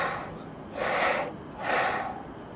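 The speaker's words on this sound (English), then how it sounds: "breathe in, and then exhale" Two deep, airy breaths taken close and alone, each a long inhale-and-exhale swell lasting about half a second to a second, separated by a quieter pause, as part of a breathing exercise for tuba playing.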